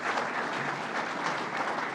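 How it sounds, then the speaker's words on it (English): Attendees at a groundbreaking for an Albany airport passenger project clap in a brief, steady burst of applause from a moderately sized crowd. "why don't you all stand up and take a round of applause here for all"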